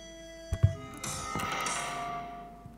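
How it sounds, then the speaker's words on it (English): Live sonification of the Christiania heating system radiators: a couple of low thunks followed by a swelling electronic wash of tones with faint steady hum, quiet and alone. "This is the sound of Christiania right now."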